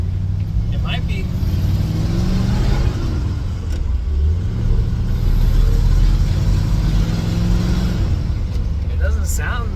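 A Ford F100 truck with shortened glass pack mufflers revs its engine close by, a loud, rough, throaty roar that rises and falls throughout under people talking.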